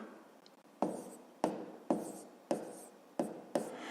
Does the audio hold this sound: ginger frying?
no